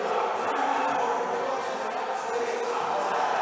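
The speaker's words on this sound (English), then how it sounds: "Crowds have started chanting." A large crowd chants steadily and loudly before a jam at a roller derby World Cup match between England and the USA, a dense continuous roar of many voices filling the arena without pause.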